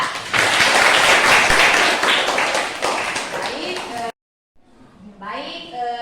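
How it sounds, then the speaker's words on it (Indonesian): An audience applauds a student discussion group in a classroom session, several seconds of dense, loud clapping that stops abruptly, followed by a voice speaking. "Berikan aplaus untuk kelompok 4"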